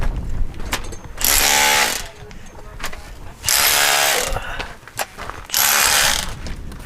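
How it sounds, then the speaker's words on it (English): A rotary hammer drills into rock at a Utah dinosaur dig, in three loud sustained bursts of harsh, rattling noise separated by quieter gaps with scattered knocks. "using a rotary hammer over there"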